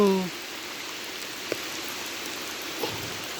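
Rain falls at night over a rubber plantation during a storm, a soft, even hiss of drops that continues throughout, quiet and fairly distant, with a couple of faint ticks of heavier drops.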